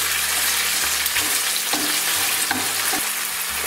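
Tomato fries in a pan for green beans with paprika, giving a loud, continuous close sizzle with light stirring scrapes and no talking.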